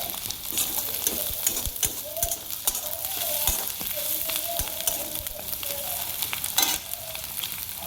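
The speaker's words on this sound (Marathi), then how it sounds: "हे आपल्याला मोठ्या गॅस करूनच लाल करायचा. कांदा लालसर असा करून घ्यायचा आहे." Onions frying with curry leaves on a high flame for a tomato chutney, a loud continuous sizzle with close stirring scrapes and spatula taps throughout.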